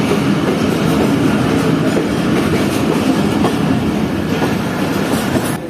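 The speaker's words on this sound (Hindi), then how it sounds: "और ये ट्रेन हमारी पहुंच गई सम्मा सट्टा जंक्शन रेलवे स्टेशन पर।" A train pulls into Samma Satta Junction railway station, its wheels and carriages rumbling loud and steady with faint clickety-clack for several seconds before easing off at the end.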